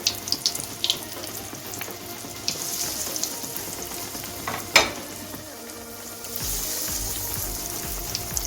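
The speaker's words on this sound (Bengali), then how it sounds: "এখন আমি সবগুলো এক এক করে ভেজে নেব" Vegetable chops fry one by one in hot white oil in a kadai, giving a steady sizzle and bubbling throughout, with a few sharper spatters and clinks and a louder surge of frying near the end.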